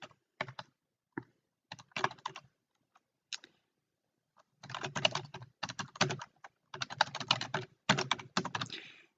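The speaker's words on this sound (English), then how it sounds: "So I've typed in ceremony venues in Northern New South Wales." Someone types a search term on a computer keyboard in quick bursts of clicking keystrokes, with a pause in the middle and then a longer, faster run of typing, close and clear with no talking.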